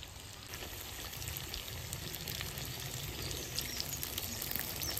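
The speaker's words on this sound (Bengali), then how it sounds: "এবার মাছটা আমি হালকা ভেজে নিচ্ছি" Koi fish lightly frying in a pan with aubergine and spices, a continuous close sizzle and crackle with gentle spitting that builds slightly and stays steady.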